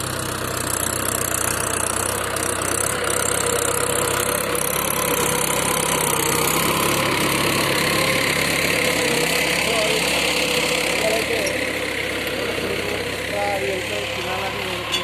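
A Mahindra tractor engine idles steadily in an open farm field, a continuous mid-pitched rumble running the whole time with faint voices and outdoor noise mixed in.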